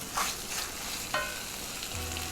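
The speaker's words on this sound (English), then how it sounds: "Now I'm going to add the rest of the masalas." Masala spices hit a hot pan for a Malwani-style shrimp curry, giving a moderate steady sizzle with a few light clinks from a utensil.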